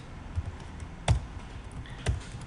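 Several sparse keystrokes on a computer keyboard while JavaScript code is typed, with about three distinct clicks spread across a quiet background and no talking.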